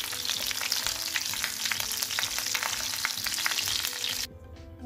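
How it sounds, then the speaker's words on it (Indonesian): Braised free-range village chicken fries gently over low heat in oil, giving a steady, close sizzle and crackle that runs nearly five seconds before dropping off abruptly near the end. "kita pakai api kecil karena sebenarnya ayamnya ini sudah matang kan ya, jadi ungkep kita tinggal goreng aja sedikit"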